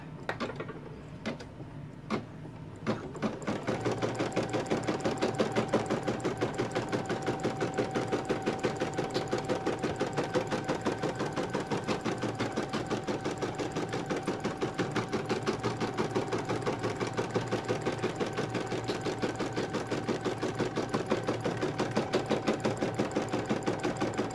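An embroidery machine stitches a tack-down line for a monkey design, a fast, even mechanical needle rhythm that starts after a few seconds of sparse clicks and continues steadily, moderately loud, with no voices.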